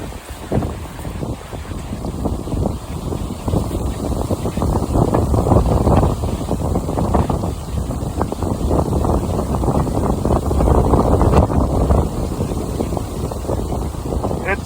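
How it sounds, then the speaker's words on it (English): Strong wind buffets the microphone outdoors in a continuous loud rumble, gusting steadily with no letup. "It's like a frickin' hurricane out here."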